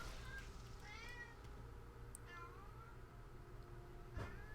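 A house cat meows several times, soft rising and falling calls over a constant low indoor hum, fairly faint and spread across a few seconds.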